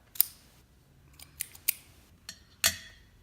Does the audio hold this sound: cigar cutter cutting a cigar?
yes